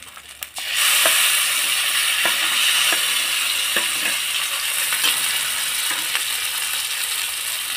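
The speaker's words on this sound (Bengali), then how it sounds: "এবার আমি সমস্ত উপকরণ একসাথে ভালো করে মিশিয়ে নেব" Boiled potato and ground potato-peel paste stirred together in a pan over a low gas flame, a steady scraping, sizzling wash with faint spoon knocks now and then, close and continuous with no talking.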